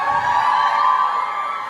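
Concert crowd at a live acoustic show at Limelight, Belfast, cheering and whooping in a sustained, dense roar of voices, loud and continuous with no clear speech.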